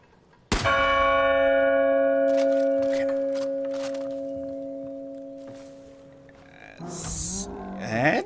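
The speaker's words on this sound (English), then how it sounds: "So we're going to ring this bell." A large bell in the video game Far Cry: New Dawn, struck once to attract a bear, rings out loud and close with a long, slowly fading hum, followed by rough animal growls near the end.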